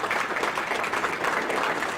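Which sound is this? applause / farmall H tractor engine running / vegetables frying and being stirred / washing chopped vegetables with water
applause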